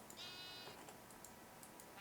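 Sheep bleat in the video game Terra Firma Punk, one soft wavering bleat near the start over a faint background bed, followed by scattered light clicks and ticks, all quiet.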